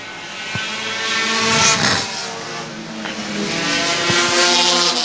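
A 4-cylinder enduro race car roars past at a speedway, engine loud and near, then easing off as it passes the flag stand, with other cars droning around the track.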